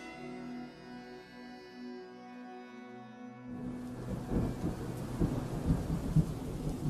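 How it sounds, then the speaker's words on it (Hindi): Heavy rain pours down with deep thunder rumbling, entering suddenly after a low sustained tone and continuing as a dense, close downpour with rolling rumbles. "लेकिन बारिश तड़ातड़ बरस रही थी"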